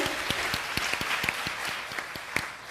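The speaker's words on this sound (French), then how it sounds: "Donc, applaudissez pour vous-même." An audience at a student panel applauds, a brisk, steady round of many hands clapping with distinct sharp claps scattered throughout, moderately loud and free of talk.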